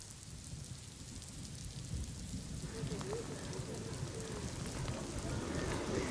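Steady heavy rain falls in Mumbai with a broad hiss and low rumble, growing slightly louder over the few seconds, faint and distant overall.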